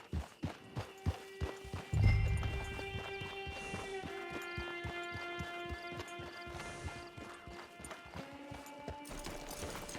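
Horse hooves clip-clop steadily in a video game, Red Dead Online on Xbox Series X, with a brief heavier thump early and an even, mid-distance trotting rhythm throughout, no voices.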